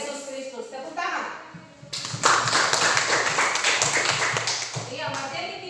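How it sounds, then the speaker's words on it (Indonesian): A grade 7 religion class claps hands together after a teacher speaks. The clapping is a burst of quick, close, rhythmic claps that fills the second half. "Tepuk tangan."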